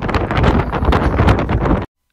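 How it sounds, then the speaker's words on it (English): Strong wind buffets the microphone with loud, rough rumbling gusts for about two seconds, then cuts off abruptly into silence. "I don't think you'll be able to hear me because it's so windy"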